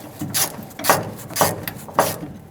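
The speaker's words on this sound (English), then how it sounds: "Tighten this one as well." A hose clamp tightened with a ratcheting tool on a 1999-2007 Ford F-350 7.3L Powerstroke, giving four loud, close, evenly spaced ratchet clicks.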